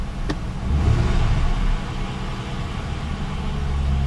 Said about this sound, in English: Okay, I just started the car.